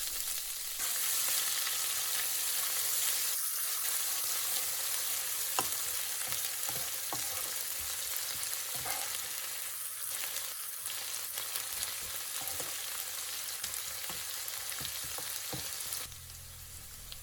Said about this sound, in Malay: Menggunakan minyak dan periuk yang sama, tumiskan bahan-bahan yang telah ditumbuk tadi sehingga wangi.